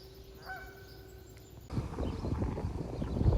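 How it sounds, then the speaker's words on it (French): A duck in northern New Zealand gives a couple of brief nasal honks early on, fairly faint. Then louder rough noise of wind or movement takes over. "c'est le canard de la pub pour la propreté"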